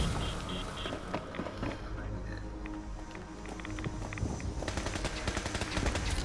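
Gunfire in Fallout 76 comes as rapid bursts of shots mixed with footsteps and game sounds, with people talking over it throughout.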